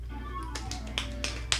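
A few light, sharp claps in quick succession, thin and snappy like two fingers tapping a palm, over a low steady hum.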